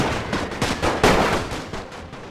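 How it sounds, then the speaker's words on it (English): Rifle and machine-gun fire exchanged back and forth through a forest in The Great War 6.0 strategy game, a rapid string of sharp overlapping shots and bursts, fairly loud and continuous with no talking. "So these guys firing back and forth through the forest at each other"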